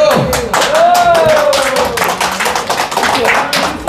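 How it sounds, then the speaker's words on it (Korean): Scattered, fairly weak applause and hand taps from a small crowd at the final of an amateur billiards club tournament, close and loud, with a voice and a sliding whistle-like tone over the clapping. "박수 한번 쳐주세요."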